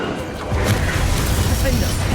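Confringo fire spell cast in Hogwarts Legacy, a burst of fiery whooshing and booming impact that swells and sustains at steady loudness, with game effects layered beneath.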